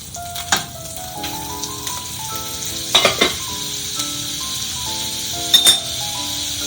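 Butter sizzling in a hot pan, a soft steady hiss punctuated by a few sharp metallic clinks of a utensil, with a faint sustained tone running underneath.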